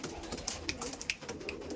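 Pigeons cooing inside a loft holding more than a hundred birds kept for sale, several soft calls overlapping at close range against a steady hum of background chatter from the flock.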